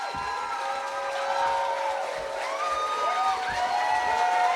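Audience applause and crowd noise at a film Q&A for The Raid 2 honoring its composer, writer-director and star, a steady wash of clapping and cheering that holds at an even level throughout.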